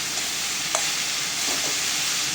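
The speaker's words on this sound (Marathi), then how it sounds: "भाजी व्यवस्थित कढईमध्ये परतून घ्यायची आहे" Chopped spring onion greens sautéing in hot oil with garlic in a kadhai over high heat, giving a loud, steady sizzle with a couple of brief spatula scrapes.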